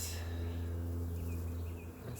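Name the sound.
honeybees roaring in an open beehive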